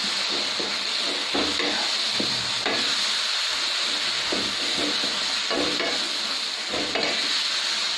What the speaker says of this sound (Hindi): अभी ये बॉयल हो चुका है, फिर इसको मैश कर देना है